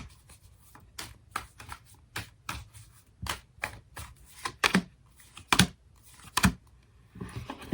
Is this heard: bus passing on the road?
no